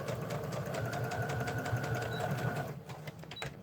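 A sewing machine runs steadily, stitching star-print fabric with matching thread for a nano wallet insert, a close continuous whirring hum that cuts off near the end, leaving a quieter room.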